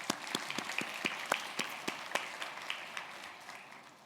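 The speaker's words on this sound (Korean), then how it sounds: "우리 그 하나님께 큰 감사와 영광의 박수 올려드리십시다." A church congregation of young adults applauds during a Sunday service, scattered claps and a soft crowd wash that gradually fade, heard from a short distance in a large room.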